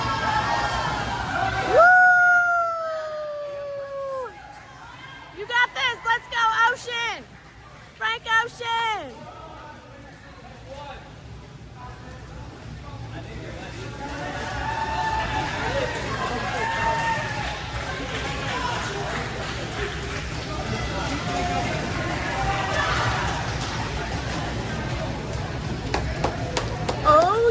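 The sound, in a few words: teacher and crowd cheering at cardboard boat race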